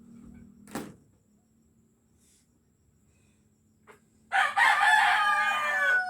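A rooster crows loudly and close by near the end, after a brief cluck and a quiet stretch with faint insects chirping in the background.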